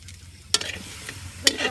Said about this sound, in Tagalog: Sige, lagay na ang bawang,